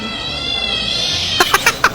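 A cat meow ringtone: a high, electronic warbling tone gives way to four quick, bright meows in a rapid rhythm, loud and close.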